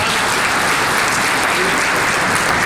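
Loud, dense applause from a seated audience at a community gathering, steady clapping filling the whole moment with no voices over it.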